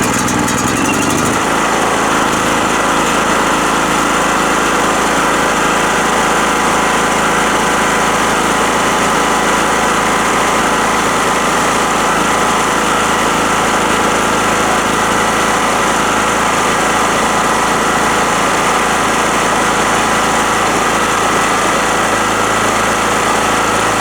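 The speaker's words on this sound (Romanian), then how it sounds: "O să pornesc utilajul și o să se audă" A petrol generator runs loudly and steadily after starting with the choke set, its engine drone holding constant and close with no pauses for the whole stretch.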